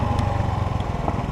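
A Honda Navi motorcycle engine runs steadily nearby with a low, even putter, close and unbroken throughout.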